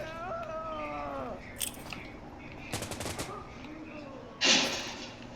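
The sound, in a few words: sniper and gunfire in video game Insurgency: Sandstorm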